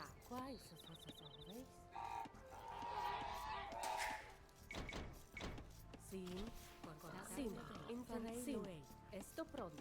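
Pig grunts and oinks from the video game Age of Empires 2, mixed with game effects and background sounds, with people talking over much of it.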